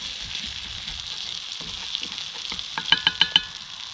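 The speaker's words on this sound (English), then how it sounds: "I'm gonna scrape some of the stuff out of this pan a little bit." A spatula scrapes bits from a hot frying pan over a campfire, a soft sizzle under a series of quick metallic scrapes that grow into four sharp rhythmic strokes near the end.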